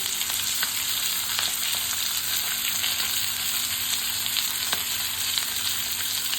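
Fish pieces, khadichi macchi given a masala fry, crackle in hot oil in a pan with a steady, loud, dense sizzle and occasional faint pops.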